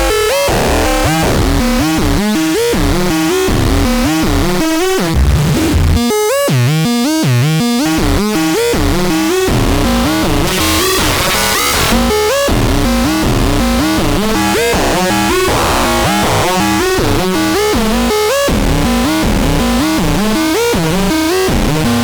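Two oscillators of a Harvestman Hertz Donut synthesizer, both pitch-controlled together, produce a loud, dense, warbling electronic tone that sweeps and wobbles continuously with metallic, clangorous harmonics.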